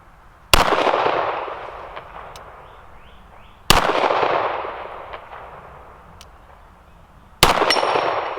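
Three loud, sharp shots from a Smith & Wesson 5906 9mm pistol with a 6-inch barrel at an outdoor range, spaced about three seconds apart, each followed by a long fading echo.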